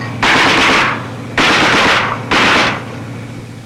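Heavy .50-calibre machine guns on armored personnel carriers firing at a mined road in the Vietnam War, three loud close bursts of rapid fire, each about a second long and separated by short gaps.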